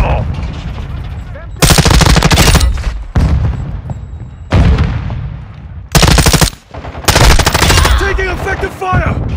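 Automatic and rapid gunfire in a Call of Duty: Modern Warfare II multiplayer match comes in several loud, dense bursts lasting a second or two, separated by quieter stretches carrying game voice callouts.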